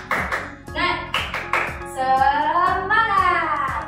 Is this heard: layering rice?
no